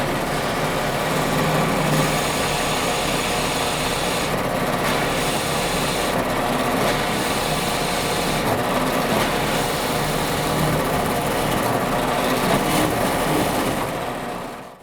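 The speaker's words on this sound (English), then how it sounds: "now I'm going to drill the other hole all the way through" A drill press bores a hole all the way through acrylic, giving a steady, dense whirring grind that holds evenly for about fifteen seconds and cuts off at the end, close and unbroken.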